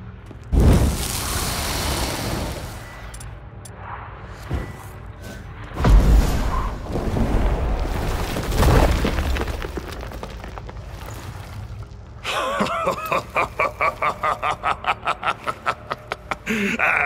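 Stalagmites being smashed in The Witcher 3, heavy booming explosions and crumbling rock debris in a cave, loud thuds spread across the scene, ending in a rapid rhythmic rattling.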